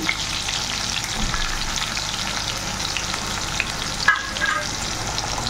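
Chopped onion and garlic fry loudly in a pan for a Bengali dish, a constant close crackling sizzle with occasional stirring scrapes and a small clatter near the end.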